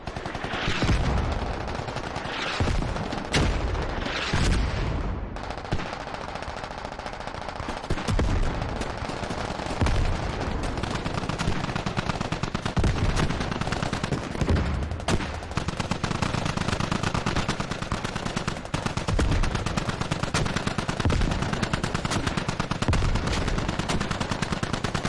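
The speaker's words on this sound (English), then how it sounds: "Nice mortars here. I guess they're from the defenders." Repeated mortar and gunfire explosions in the Squad video game during a 50 vs 50 Invasion match, a dense, continuous barrage of loud blasts and crackling shots with heavy low rumble throughout.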